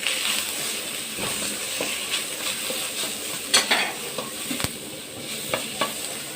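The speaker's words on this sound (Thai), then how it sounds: "เหลืองจะ ใส่พริกนะคะ เสี่ยงตะหลิวนะคะ" Pork belly stir-fried with chili in a wok, a metal spatula scraping and tossing the meat over a steady close sizzle, with sharp clanks of the spatula against the pan.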